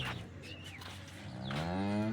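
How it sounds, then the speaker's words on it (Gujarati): A cow at a cattle market lets out a single drawn-out moo, rising and swelling toward the end, with softer animal sounds before it. "હવે છે એક 8મા નંબરની ગાય"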